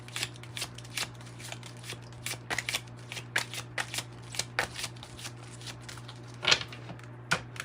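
Tarot and oracle cards being shuffled by hand, close up: a quick run of crisp riffling and slapping bursts in an uneven rhythm over a steady low hum, with no talking.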